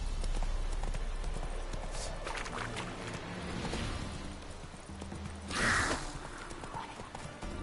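Roach the horse galloping in The Witcher 3: Wild Hunt, a steady clip-clop of hooves running through the whole stretch at moderate loudness, with a brief louder burst of rushing noise near the end.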